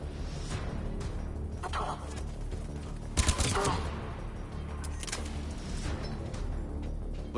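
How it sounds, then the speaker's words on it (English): Gunfire from the video game Mass Effect 3 Legendary Edition, a steady crackle of shots under game music with a louder burst of impacts near the middle. "Who is shooting me?"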